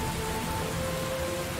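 Steady rain falls in the video game Heavy Rain, a dense, even hiss of drops on surfaces running continuously throughout, with a faint tonal hum in the background.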